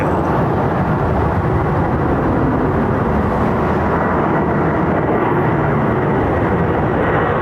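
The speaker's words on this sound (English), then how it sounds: "That's a long aircraft." A long aircraft rumbles at London Heathrow Airport, a steady broadband roar holding constant and fairly loud throughout with no talk.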